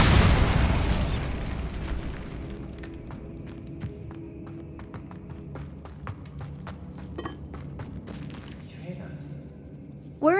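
The Bombarda spell erupts in the game Hogwarts Legacy inside a tomb with a loud, close blast that rumbles away, followed by scattered crackles and pops of debris and a second sudden burst at the very end.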